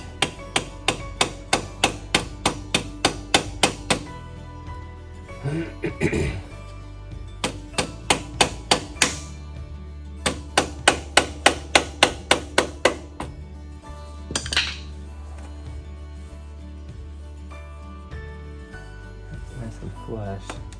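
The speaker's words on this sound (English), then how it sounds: "I grab my flat head and the rubber mallet. And kind of tap it back into place." A flat-head screwdriver and rubber mallet tap a part back into place during a fuel filter change on a John Deere 5085M tractor. Rapid runs of sharp, evenly spaced knocks come in several bursts, with brief pauses and quieter handling between them.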